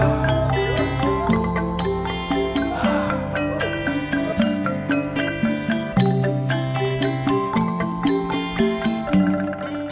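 Gongs struck by soldiers circling a stage during a traditional dance performance ring out in a steady rhythmic pattern of bright, sustained metallic tones layered over one another, loud and continuous with no voices.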